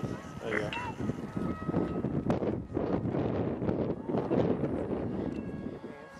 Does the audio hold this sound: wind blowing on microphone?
yes